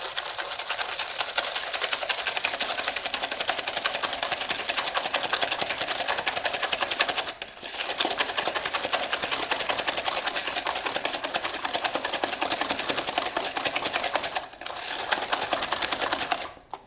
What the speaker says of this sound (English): So I will get mixing. We'll first do the egg yolks and the sugar together.